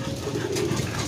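Breeder racing pigeons cooing inside a loft, soft overlapping coos rising and falling close by over a steady murmur of the flock, with no talking.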